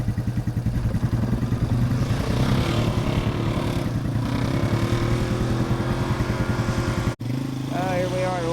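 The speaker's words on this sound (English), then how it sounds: "Got my four-wheel running." A four-wheeler ATV engine idles and revs outdoors with a steady, loud, throbbing drone that fills the whole stretch, briefly cutting out near the end; a voice speaks over it at times.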